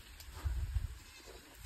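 Goats bleating at a mountain village homestay in Nepal, one faint short bleat heard at a distance over quiet background hiss.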